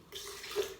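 Water pours into chia pudding that is being thinned, a brief splashing trickle lasting under a second, close and fairly soft with no voice over it.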